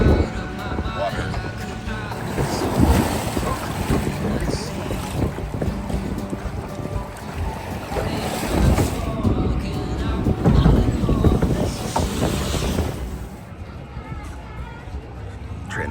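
Rushing, splashing water and heavy wind buffeting the microphone on a log flume ride at Six Flags Over Georgia, loud and close, with riders' voices breaking through in places.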